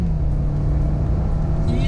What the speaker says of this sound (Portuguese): Cheguei aqui na reta a 60 por hora, trisco o pé fundo, o motor demora mais tempo para encher